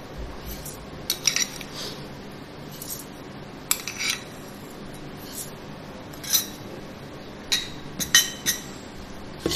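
A spoon clinks and scrapes against a bowl while mixing yogurt and sugar for Amritsari lassi, with scattered metallic taps over a quiet background.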